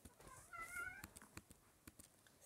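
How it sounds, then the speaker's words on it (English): A house cat gives one faint, drawn-out meow indoors, followed by soft scattered clicks and taps in a quiet room. "Sorry, that's my cat."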